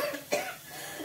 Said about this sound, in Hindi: की खांसी आ रही है, अभी भी खांसी हल्की हल्की आती रहती है।